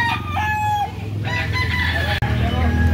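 A rooster at a chicken market in Cebu crows loudly and close, a long wavering call, with voices faintly in the background and a brief sharp break near the end.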